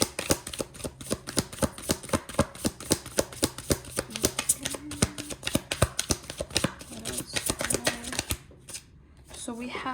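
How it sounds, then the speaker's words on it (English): Tarot cards are shuffled repeatedly in quick riffling bursts, close and crisp, with a brief pause near the end. "Okay, let's shuffle."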